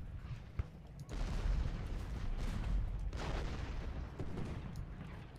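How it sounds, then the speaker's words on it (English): Civil War cannon artillery in Ultimate General: Gettysburg booms in a dense, continuous barrage, faint and distant, with rolling blasts blending into a steady rumble. "That's a lot of cannons."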